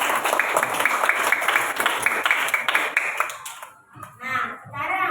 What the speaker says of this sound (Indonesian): Tepuk tangan kelas 5.